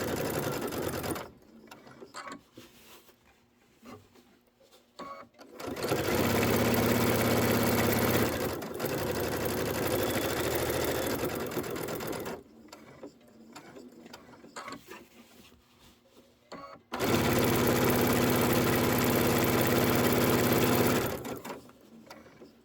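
A sewing machine top stitching a spring pennant runs in two long loud bursts of rapid rhythmic clatter, separated by quieter pauses with faint handling sounds.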